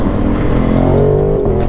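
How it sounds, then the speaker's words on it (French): An Aprilia Tuono 660 motorcycle fitted with a Dominator exhaust revs loud and close, a throaty, rasping note that rises and then eases off in one short, continuous burst. "La ligne Dominator là qu'il a mis, elle chante super bien."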